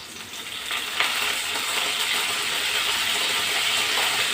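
Garlic and curry leaves frying in hot tempering oil for a cucumber-tomato dal, a steady bright sizzle and hiss that stays loud and close throughout with no voices.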